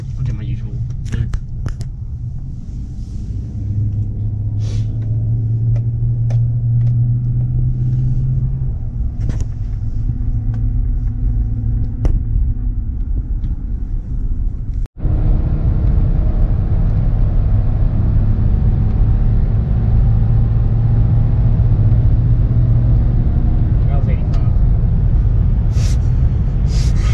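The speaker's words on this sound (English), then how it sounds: "So we're just gonna do a little test drive on it, see what it feels like" A 2015 GMC Sierra 1500 Z71 4x4 pickup with the 5.3 Vortec V8 on a test drive, steady low engine rumble from inside the cab with brief revs and a cut partway, with people talking over it.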